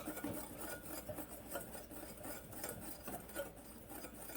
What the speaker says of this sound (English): So I'm just going to give this a whisk to kind of get everything combined really well.